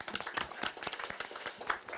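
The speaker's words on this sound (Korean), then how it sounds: "일단 큰 박수 부탁드립니다." Scattered, faint hand claps from a small seminar audience welcoming a presenter on regulatory innovation, a sparse, uneven patter of individual claps over two seconds.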